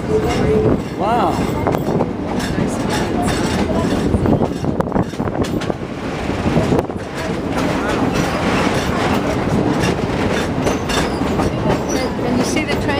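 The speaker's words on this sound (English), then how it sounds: "There's a train." The Verde Canyon tourist train rolls along its rails nearby with a steady clatter and rumble of wagons, squeals and clanks rising at times, continuous and loud throughout.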